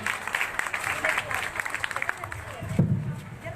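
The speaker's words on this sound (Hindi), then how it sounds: "Please, with a huge clap for Miss Naeem Akhtar." An audience claps at a school association meeting in Multan, steady scattered applause throughout with a voice talking over it.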